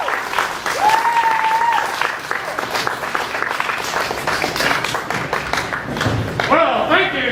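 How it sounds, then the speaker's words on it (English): Audience applause for a comedian at a live show, a dense wash of clapping from the crowd with some cheers and whistles, lasting several seconds and tapering near the end as voices emerge. "Guys, give a huge round of applause for Cool Breeze."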